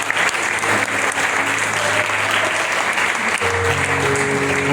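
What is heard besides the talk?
church congregation applause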